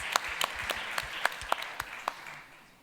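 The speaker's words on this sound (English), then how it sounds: "Let's give Lindiwe a big round of applause" Scattered clapping for a speaker at a tourism panel discussion, a handful of distinct claps from a small audience, close and sparse, dying away after a couple of seconds.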